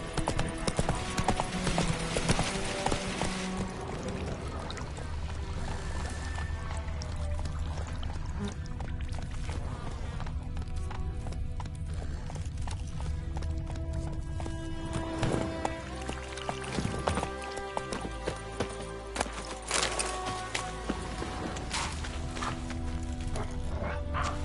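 The horse Roach gallops in The Witcher 3 on PS5, a dense run of hoofbeats close up, mixed with shifting game ambience and music, steady and continuous for the whole stretch.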